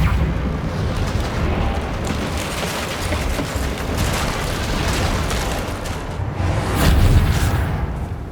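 Dense, roaring magical rumble and crackle as the Reparo repair spell rebuilds a damaged bridge in Hogwarts Legacy, sustained and loud throughout with a swell near the end.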